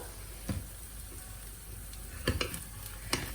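Chickpea batter pancake (besan cheela) cooking in a pan, a soft steady sizzle with a few sharp ticks and pops, quiet and close.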